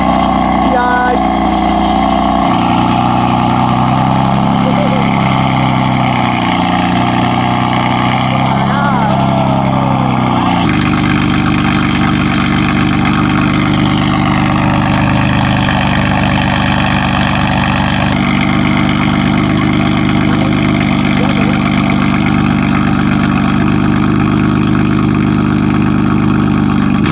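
A BMW F82 M4 with a new loud exhaust and its valve open idles and revs in a deep, continuous rumble, heard close and loud with people talking over it.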